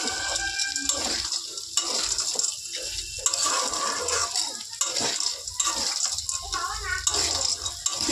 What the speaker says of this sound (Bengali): কিছুক্ষণ এভাবে ভালো করে একটু ভেজে নেব পাস্তাটা সব সবজিগুলোর সাথে